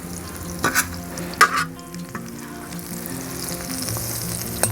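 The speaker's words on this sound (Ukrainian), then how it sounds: "Тепер обсмажуємо м'ясо." Thin beef slices for a cheesesteak sizzle in oil in a pan, a steady fry hiss broken by a few sharp clanks and stirring scrapes near the start.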